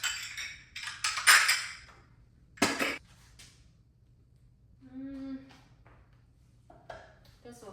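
Measuring cups and small bowls being put into a kitchen cabinet, with several close clinks and clatters early on and a brief ringing ping later, mixed in with a person talking.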